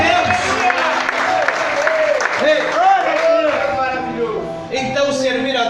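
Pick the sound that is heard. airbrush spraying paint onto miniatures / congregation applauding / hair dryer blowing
congregation applauding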